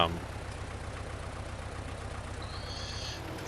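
An old tractor engine in the Farming Simulator 19 video game runs steadily for the whole stretch, a loud, low, evenly pulsing idle rumble close by, with a faint high whine rising near the end.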